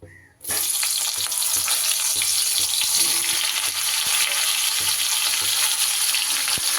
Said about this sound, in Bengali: এবার আমি এই তেলে ফুলকপিগুলো ভেজে নেব